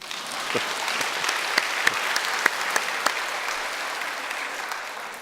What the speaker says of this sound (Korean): 나 같으면 박수하고 싶은데.